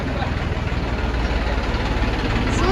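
A tractor engine idles nearby with a low, steady, rhythmic chugging that throbs evenly for a few seconds.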